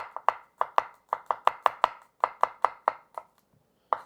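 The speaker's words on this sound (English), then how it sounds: "So we're just going to go ahead and cut up the garlic and mince it." Kitchen knife chopping and mincing garlic cloves on a cutting board, a run of sharp, close knocks in an irregular quick rhythm with brief pauses and no talking.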